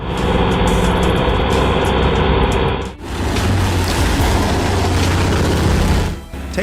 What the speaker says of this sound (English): The thunderous roar of the DT tractor engine signals its readiness to tackle any